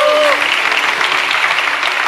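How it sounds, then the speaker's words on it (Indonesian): A church congregation claps loudly during a sermon, dense steady applause filling the hall for a couple of seconds, with a brief tone fading at the start. "Tepuk tangan buat Tuhan Yesus."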